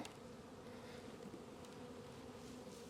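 Honeybees in an opened hive during a frame inspection make a steady, dense buzzing hum that fills the whole stretch without pause, close to the listener, with no voices.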